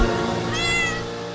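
A single drawn-out cat meow, loud and close, rising and falling over about a second, used as a sound effect in a narrated children's story.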